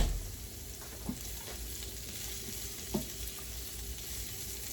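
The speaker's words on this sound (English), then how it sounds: "Sauteing these onions, then I'm gonna put these hamburgers in there." Onions sauté in a pan on the stove in a low, steady sizzle, with a couple of soft utensil clicks and no talk.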